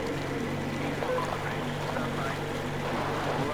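A boat engine in the video game Metro Exodus runs with a steady, low droning hum, with wind and water noise over it and no break.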